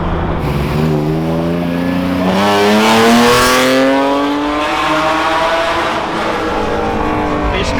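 Race car engine with an atmospheric 3.2 setup revs up through rising gear-shift sweeps, loud and close, in a street race in Istanbul, the pitch climbing, dropping at each shift and climbing again.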